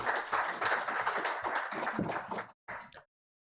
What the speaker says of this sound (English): Dr. Harsh Mahajan deserves a great applause for putting this together.